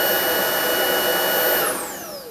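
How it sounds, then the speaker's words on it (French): A Dreame Trouver Power 11 cordless vacuum cleaner runs with its motorised brush, a loud steady whine with a high tone that falls away as the motor spins down near the end. "Avec la brosse motorisée et l'aspirateur comme ceci."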